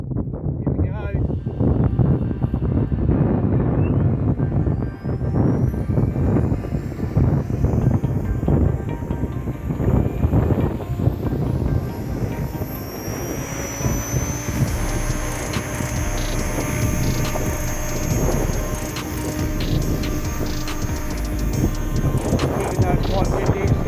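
A 700-size RC helicopter flies in strong wind, a loud steady rotor and motor roar with gusty wind buffeting the microphone throughout, while someone talks over it.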